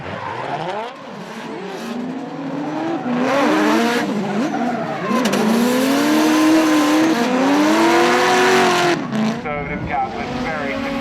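Supercars racing side by side toward the finish line at a V8 Supercars round, engines roaring loud and close with rising and falling pitch, tyres squealing, and a commentator talking over the noise.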